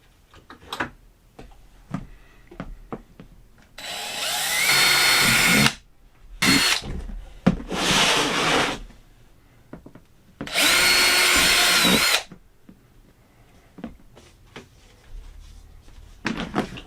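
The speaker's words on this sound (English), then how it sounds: "we'll drill some holes." A power drill bores holes into a worm farm bin, running in four bursts of a few seconds each, close and loud, with small handling clicks and taps between them.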